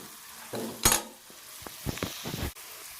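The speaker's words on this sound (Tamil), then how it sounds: "மஞ்சள் தூள் சேர்த்து கொஞ்சம் லைட்டாக வதக்கிட்டோம்" An onion mixture with turmeric powder sautéing in a pan: a soft sizzle with a few stirring scrapes and light clinks from the utensil, quiet and close.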